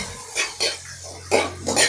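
Tagalog home cooking of a mixed-vegetable dish, with metal clinks and scraping of a utensil against a pan as aromatics are sautéed. Four short clattering bursts stand out over a low steady hum, with no talking.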